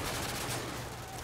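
Dense, rapid gunfire from Call of Duty Modern Warfare 2 crackles in a brief continuous burst, fairly faint and noisy, without speech.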